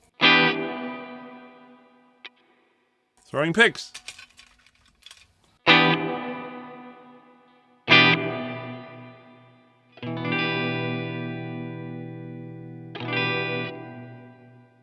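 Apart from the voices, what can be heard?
Cuvave guitar pedal low pass filter effect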